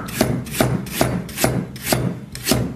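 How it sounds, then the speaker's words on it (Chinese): A knife chops through ginger on a cutting board in a steady, even rhythm, about six close-up strokes, each a short crisp knock, with no talking. "姜咱们给它切一下"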